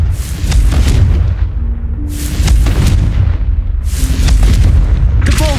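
Repeated Confringo fire-spell blasts in the video game Hogwarts Legacy, three heavy booming bursts roughly two seconds apart, each with a bright crackling tail, loud and continuous with no talk.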